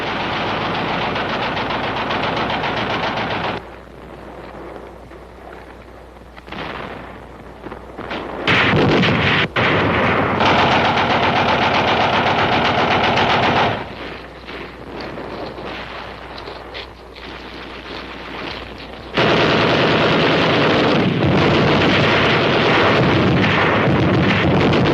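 Heavy Korean War gunfire from gun barrels, loud sustained bursts of machine-gun and artillery fire with explosions rumbling through, dropping briefly to quieter stretches before surging back to full intensity.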